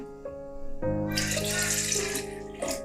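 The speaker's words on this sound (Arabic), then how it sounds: "هنحط نص كوباية مية." Half a cup of water is poured into tahini sauce, a steady splashing pour over a background of music, running for a couple of seconds before tapering off.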